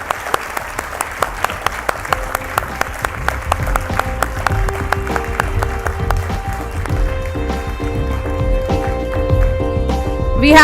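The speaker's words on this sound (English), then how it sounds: "Let's have a round of applause for squadron leader Nikita Malhotra" Strong, sustained applause from a large audience at an Indian awards ceremony, with sharp rhythmic beats and music swelling underneath, building in loudness toward the end.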